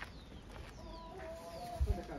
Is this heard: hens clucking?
yes